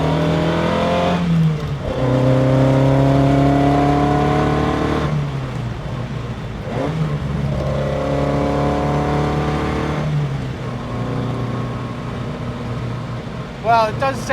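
A 1960 Lotus Elite sports car's engine pulls hard on a farm road, rising in pitch through the gears with shifts between them. The loud, close engine note continues throughout, with no talking.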